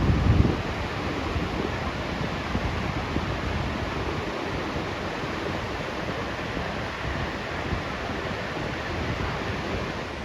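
Atlantic surf on the Portuguese coast near Nazaré, a continuous broad roar of breaking waves mixed with wind buffeting the microphone, steady and fairly distant, with no voices.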